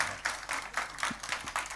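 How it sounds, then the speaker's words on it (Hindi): Audience at a mushaira poetry recital at the Ramleela Mela in Hardoi clapping together, a steady rhythmic burst of claps in regular beats, moderately near with no talking. "जरा तालियां बजा दीजिए सारे लोग मिलके"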